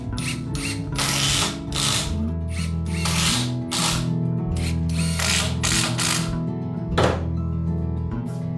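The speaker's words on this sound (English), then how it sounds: "Then I adjust the Kamoi to the center and secure it with screws." Power drill driving screws to fix a kamoi (wooden lintel) in a Japanese-style room, heard as close, loud, pulsing bursts of whirring with ratcheting clicks and one sharp knock near the end, with no talk.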